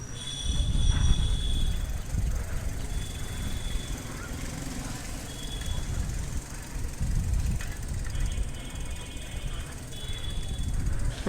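A train rolls past a railway crossing in the city, heavy low rumbling wheels with intermittent high metallic squeals, fairly close and continuous, with faint voices underneath.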